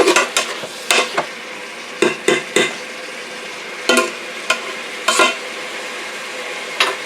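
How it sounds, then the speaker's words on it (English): Beef with peppers and onions sautéing in a pot while a spoon stirs, giving sharp, irregular clanks and scrapes over a steady low sizzle, close up and without speech. "I'm going to stir that up so that all the meat gets some browning and the vegetables"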